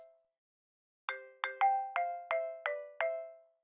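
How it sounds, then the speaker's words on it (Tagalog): A mobile phone rings with a bright chiming ringtone, six quick rising notes in a steady rhythm that each ring out and decay, clear and close with no talk. "Biglang tumunog ang cellphone ni Maria"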